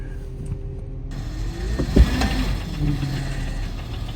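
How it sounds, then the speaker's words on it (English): A fully loaded GLX wagon on Audi wheels runs with a steady engine hum and a rough, groaning power-steering strain rising near the middle, with a brief thump, no talking. "Ooh, that power steering sounds rough"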